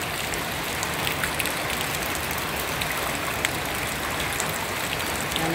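Heavy rain pours down on a flooded street during Typhoon Enteng, a constant dense hiss with scattered drips and splashes and no letup for the whole stretch.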